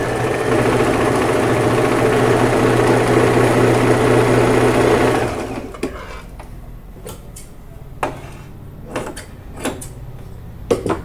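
A sewing machine topstitching a straight pant runs in a loud continuous whir for about five seconds, then stops, leaving scattered faint clicks and handling noises of fabric.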